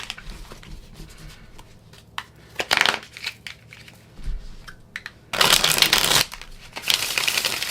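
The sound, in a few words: tarot cards being shuffled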